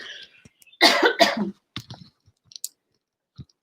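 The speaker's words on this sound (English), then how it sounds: "I keep coughing a little bit" A couple of harsh, close coughs in quick succession, followed by small throat clicks and quiet rustling.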